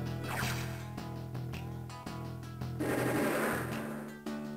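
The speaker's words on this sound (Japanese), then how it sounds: "ロケット砲撃て" Rocket launcher fire in Famicom Wars DS, a rapid rattling barrage of retro-style game shots layered over steady background music.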